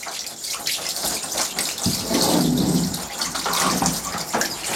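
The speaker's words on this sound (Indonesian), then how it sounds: "siram aja dengan menggunakan air mengalir" Running water from a tap rinsing leftover ink off a screen-printing screen, a continuous loud splashing gush that swells and surges as the stream is moved across the mesh.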